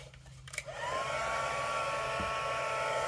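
A heat embossing tool switches on with a click and then blows hot air in a steady, loud whirring drone that holds without a break, with no talking over it.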